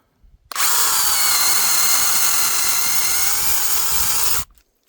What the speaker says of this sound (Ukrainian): Ні, ну це моя нова любима пилка.